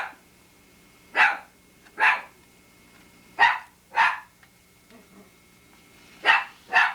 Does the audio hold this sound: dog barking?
yes